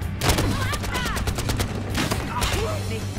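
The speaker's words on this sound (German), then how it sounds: "Die macht Wumms, die Knarre." Rapid bursts of gunfire from Battlefield Hardline, heavy and repeated, with brief pauses between volleys and a low rumbling backdrop.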